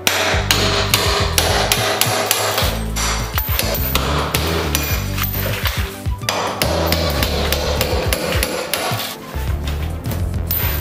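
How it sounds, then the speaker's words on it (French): A small chisel and hammer chip mosaic tiles off a bathroom wall, making rapid, loud, continuous metallic tapping and scraping with cracking fragments. "Petit ciseau."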